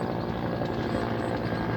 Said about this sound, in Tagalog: dalawang helicopter yan po, no?